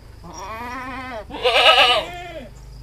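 Etawa goats on a livestock farm bleat loudly and close by, two wavering calls in quick succession, the second stronger and harsher.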